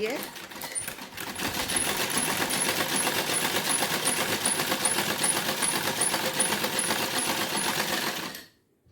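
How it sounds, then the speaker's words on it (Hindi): Sewing machine stitching the neckline of a kurti, a steady close whirring drone that runs for about seven seconds and then stops abruptly. "इस तरह सिलाई ऊपर से और लगाएंगे"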